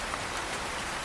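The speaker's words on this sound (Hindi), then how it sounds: "ये देखो बारिश कितनी प्यारी है ना?" Steady cartoon rain falls seen through a window, a dense even hiss of drops on surfaces with no voices.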